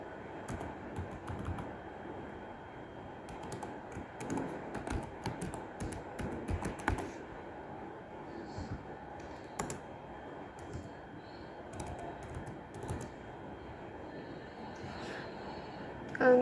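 Steady typing on a computer keyboard, quick light clicks in irregular bursts while an email and password are entered, close and fairly quiet with no talking.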